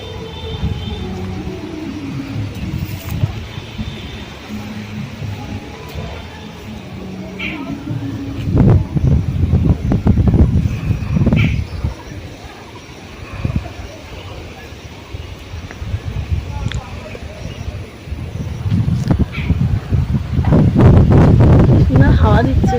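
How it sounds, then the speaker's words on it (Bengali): Gusty wind blowing outdoors under a mango tree as a storm rises, rumbling and buffeting the microphone in loud surges, with voices talking over it. "হাওয়া দিচ্ছে।"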